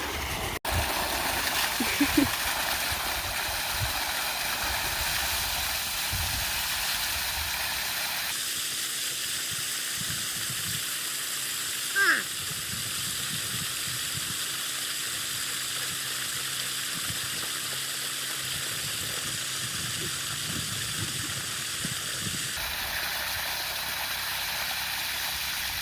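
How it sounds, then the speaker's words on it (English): Water gushing out of a leaking cap on a pipe still full of water at a low spot, a continuous broad hissing rush that shifts in tone partway through, with a few faint knocks. "The pipe is still full of water and we're in the low spot, so it's all pushing out."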